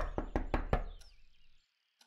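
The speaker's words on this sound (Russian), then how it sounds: "Как только закончил, дверь постучали." Knock on a door in the game Everlasting Summer: four quick, loud, evenly spaced raps followed by a soft fading tail and then silence, with no voices.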